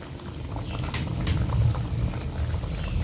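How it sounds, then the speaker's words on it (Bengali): Rohu fish kalia gravy boiling steadily in a pan, a dense bubbling simmer that holds close and even throughout with no voices. "গ্রেভিটা ফুটছে"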